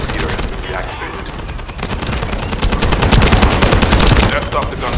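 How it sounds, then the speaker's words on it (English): Rapid automatic gunfire rattles in the shooter game The First Descendant, loud and close, with dense bursts building toward the end and faint voices mixed underneath. "That stopped the gunfire"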